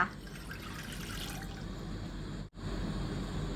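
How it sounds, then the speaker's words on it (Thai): Coconut water pours steadily into a pot on the stove with a continuous trickling, splashing rush, cutting off briefly near the end before resuming. "ใส่น้ำมะพร้าวลงไปค่ะ"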